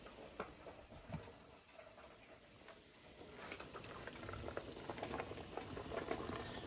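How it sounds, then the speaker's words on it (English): Water with fresh lemon and garlic bubbles and boils in a pot, a soft continuous simmering with scattered pops and gurgles, fairly quiet and steady. "Now that we have the water boiling with fresh lemon and garlic"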